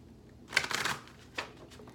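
Tarot cards riffle in a close, crisp burst of shuffling, followed by a brief slap as a card is pulled from the deck, with no talking.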